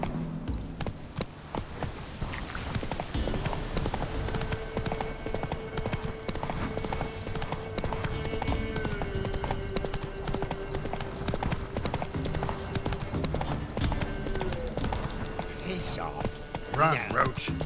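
Roach the horse gallops in The Witcher 3: Wild Hunt, hooves clip-clopping in a steady, fast rhythm throughout. Game music and ambience run underneath, with a voice talking over it.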